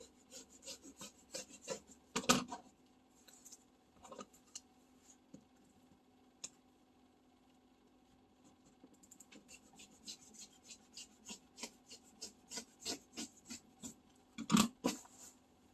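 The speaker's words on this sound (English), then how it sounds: "So I'm just gonna hold it and cut it out here." Scissors cut through fabric for a bag pocket, making soft rhythmic snipping and rasping strokes that come in two clusters separated by a quiet stretch, with occasional sharper clicks and rustles close by.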